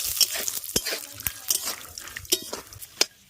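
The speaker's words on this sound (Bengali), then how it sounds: "একইভাবে চিনে বাদামটাকেও খুব ভালো করে ভেজে নেব।" Peanuts fry in white cooking oil in a pan, giving scattered close clicks, light clatter and soft bubbling crackle in uneven bursts with quiet gaps between them.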